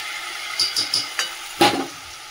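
Spices in a pan with a splash of water and chilli powder sizzle softly, broken by a few distinct scraping stir strokes and a louder clatter near the end.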